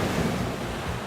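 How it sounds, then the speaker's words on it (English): A rough Atlantic wave surges and breaks against the barnacle-covered rocks of the Costa da Morte, a close, steady roar of churning surf and spray filling the whole moment without any voices. "he ducks the coming wave"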